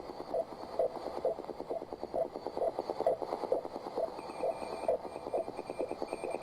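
A shortwave radio broadcast of a numbers-style station crackles with hiss and static, a faint, music-like warbling tone pulsing rhythmically through the noise.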